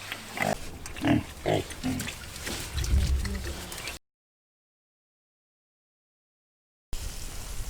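Large pigs on a farm grunt near a water trough, a few close, rough bursts in the opening seconds, then the sound cuts out before faint background noise returns.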